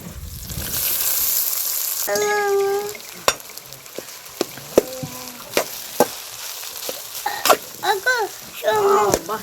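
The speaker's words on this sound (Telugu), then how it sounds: "ఇప్పుడైతే బువ్వ వేసుకుందామండి" Cooked rice tipped into a hot pan for simple egg rice sets off a loud sizzle at first, followed by scattered clanks and scrapes of stirring, with a voice chirping intermittently.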